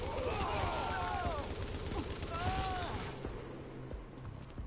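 Gunfire in The Division video game comes as rapid overlapping bursts, loud at first and easing off slightly, under a speaking voice and some in-game tones.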